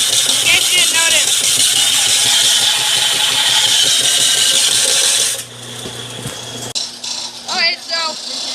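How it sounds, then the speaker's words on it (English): Belt sander running on wood for a homemade crossbow, a loud continuous whine and rasp that drops off near the end, with brief voices and handling noise afterward. "We're belt sanding."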